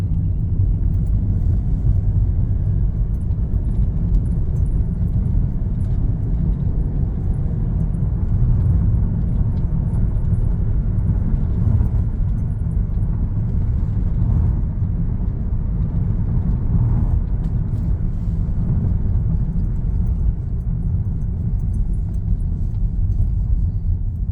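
A Mercedes-Benz W204 with a 7-speed gearbox idles at low revs during a gearbox oil change, a steady low rumble and hum held close and unbroken, with no voices.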